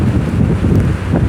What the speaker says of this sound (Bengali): অবশ্যই বাতাসের শব্দ শুনতে পাচ্ছেন আপনারা।